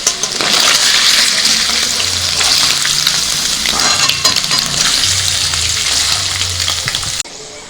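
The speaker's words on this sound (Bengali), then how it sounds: "আমি তেলের মধ্যে দিয়ে দিয়েছি গোটা গরম মশলা" Whole garam masala fries loudly in hot oil, a dense continuous sizzle with stirring scrapes throughout before it cuts off abruptly near the end.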